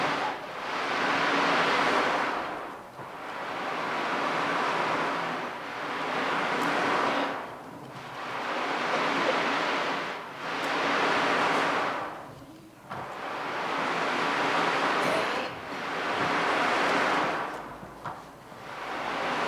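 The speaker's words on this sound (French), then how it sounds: "Avec le bruit des vagues." Ocean waves wash onto a beach in slow regular surges, each swelling to a broad roar and then fading, about six cycles with no talking.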